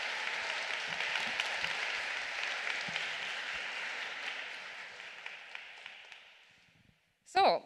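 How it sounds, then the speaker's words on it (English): A conference audience applauds for several seconds, a dense, moderately distant patter of many hands that gradually fades out, followed by a brief close loud noise at the very end. "I would like to ask everyone to do a big applause to them"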